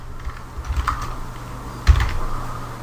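Short bursts of keystrokes on a computer keyboard, a cluster of light taps near the start and a sharper burst later, fairly quiet over a steady low hum, with no talking.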